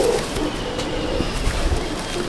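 Madrasi pigeons kept for sale coo in a low, steady rumbling murmur that carries on without a break, no talk over it.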